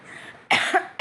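A person still recovering from a cough gives a sharp, close cough followed by a short second burst, with a throat-clearing rasp in between, loud and alone with no talk.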